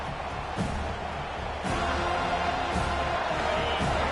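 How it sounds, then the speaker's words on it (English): Roaring football stadium crowd at an FSU versus Notre Dame game, a dense sustained wall of cheering and yelling heard from within the stands, loud and continuous with no clear gaps. "This crowd, full throat, splitting the eardrums and letting them know it's going to be a long day."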